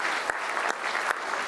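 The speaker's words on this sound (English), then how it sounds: "So a round of applause for Sandra." Audience at a memorial lecture applauding, dense steady clapping from a room full of people with a few louder individual claps standing out.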